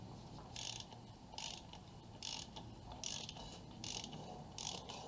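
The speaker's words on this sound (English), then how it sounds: "We couple the wrench with the oil filter and we do clockwise." A wrench turns a car engine's oil filter clockwise during an oil change, giving a steady series of short ratcheting clicks in repeated bursts, close and fairly quiet with no talk.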